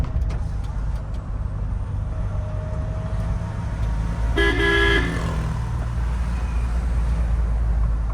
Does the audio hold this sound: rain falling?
no